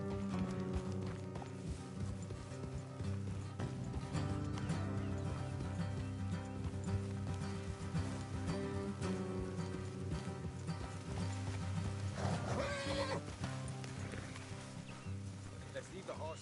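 Horses trot along in Red Dead Redemption 2, a steady clip-clop of hooves under a dense, continuous bed of game music and ambience, with voices speaking throughout.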